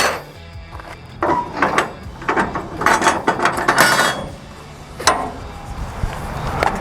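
The ratchet on a 4-inch wide wheel cradle strap from a car tow hitch kit is released with loud, close metallic clicks and clunks in irregular bursts, followed by a rattle of hardware.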